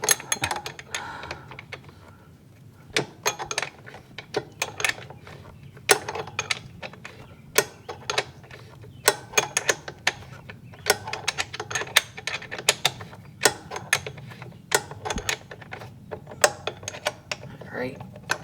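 Rapid ratchet clicks come in short bursts with brief pauses as a Kawasaki Zx6R front wheel is tightened, sounding close and crisp over a faint background hum.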